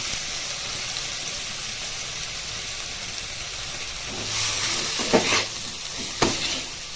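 Grated cauliflower sautéing in spiced masala in a pan, with a steady hissing sizzle that swells toward the end as it is stirred, plus a couple of sharp scraping clacks from the spoon.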